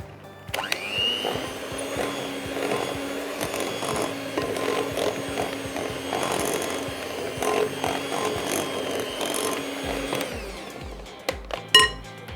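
An electric beater whirs steadily for about ten seconds as it mixes cocoa powder into a cake batter, with a rattling, grinding edge against the bowl, then cuts off and is followed by a few clacks and knocks.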